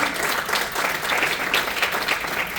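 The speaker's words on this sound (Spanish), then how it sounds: "Dale su fuerte aplauso." Congregation in a church gives a strong round of applause, a dense, steady wash of many clapping hands lasting a few seconds with no talk over it.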